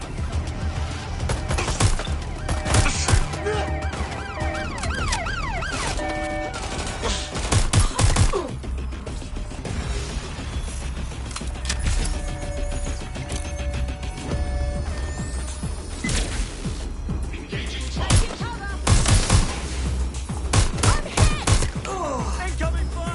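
Gunfire in Watch Dogs: Legion, bursts of shots and impacts at varying distances over a dense game soundscape with a steady low rumble, with louder clusters of firing recurring through the scene.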